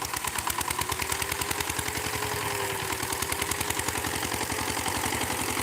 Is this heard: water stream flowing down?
no